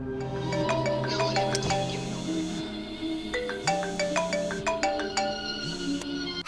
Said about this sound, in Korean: 계속 울려대는 휴대폰